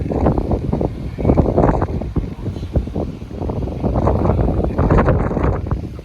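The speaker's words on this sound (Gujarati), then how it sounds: "એટલો બધો પવન છે ને કે વરસાદ ખેંચી આવે અહીંયા." Strong wind roars and buffets the microphone in uneven gusts, a continuous low rumble that swells and dips throughout.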